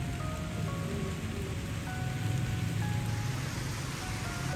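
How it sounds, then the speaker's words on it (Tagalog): Steady rain falling on a surface outdoors, a dense, even hiss with a low rumble beneath and a few faint tonal background sounds, continuous and moderately loud with no talking. "Naabot na po kami ng ulan."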